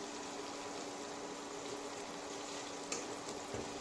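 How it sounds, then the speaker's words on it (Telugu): Tomatoes fry in a pan for a chicken curry, a faint, steady low sizzle with a light clink near the end, no voices. "కొద్దిగా పచ్చివాసన పోయినంత వరకు వేయించుకుందామండి"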